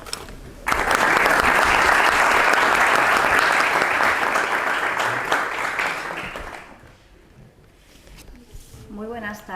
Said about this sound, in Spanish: Os pido un aplauso.